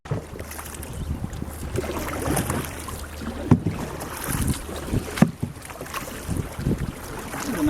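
Paddles stroking through water from a small boat, with a continuous wash of water and wind noise across the microphone and irregular splashes and knocks close by.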